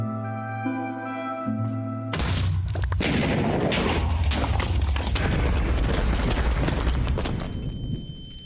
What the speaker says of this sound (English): while explosions go off left and right